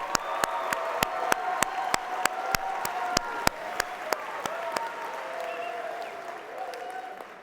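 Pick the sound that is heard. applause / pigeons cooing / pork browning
applause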